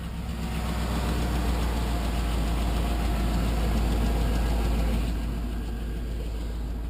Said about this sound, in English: Has a slight exhaust leak.